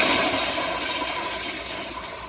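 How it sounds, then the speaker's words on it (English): A grey 1989 Crane Economizer toilet flushing, a loud rushing gush of water that starts strong and slowly tapers over a couple of seconds, close and alone. "here is another flush."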